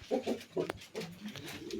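Pigeons coo softly in a loft where squeakers have hatched from eggs, giving a few low, throaty burbling calls in quick succession at close range with no talk.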